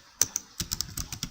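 A computer keyboard clatters with a short burst of quick, irregular keystrokes, close and crisp, as text is entered into a data entry form.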